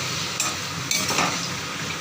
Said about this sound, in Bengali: এই জলটা দিয়ে ভালো করে কষিয়ে নেব সজনে ডাঁটা আলু একসঙ্গে